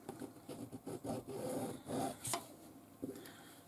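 Friction pen dragged across fabric while marking a straight line 1 inch in from the edge for a tote bag pocket, giving a series of soft, close scratchy rubbing strokes in uneven rhythm, with no talking.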